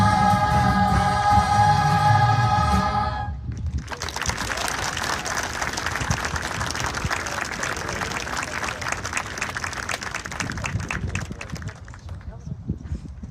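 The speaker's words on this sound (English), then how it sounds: "Let's have another round of applause for the members of Word of Mouth" A school graduation audience applauding after a middle school choir's performance, sung music ending first, then a long, dense burst of clapping from a large crowd that slowly thins out.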